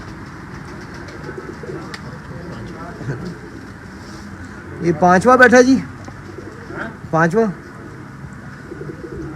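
Racing pigeons coo in short low bursts, two clusters a few seconds apart, beneath someone talking and steady background hum, at a pigeon flying competition.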